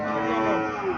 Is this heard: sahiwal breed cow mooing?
yes